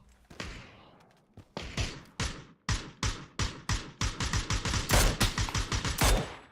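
Gunfire in the video game PUBG cracks out in rapid bursts of sharp shots. The shots grow denser and louder toward the end, up close, with no talk over them.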